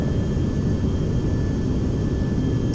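Steady, loud drone of the Carenado Premier 1A's jet engines in Prepar3d during descent, a continuous low roar with a faint high whine and no voices.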